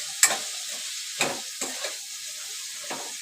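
Soybean biryani mixture being stirred with a full packet of biryani masala, giving a few sharp scraping clinks of a spoon against the pot over a soft sizzling hiss, with quiet gaps between the strokes.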